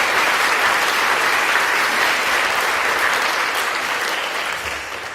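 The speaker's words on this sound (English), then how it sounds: "So I want you all to give a round of applause for Ad News," Loud, sustained applause fills an awards ceremony hall as a dense wash of clapping hands that holds steady before fading slightly at the end.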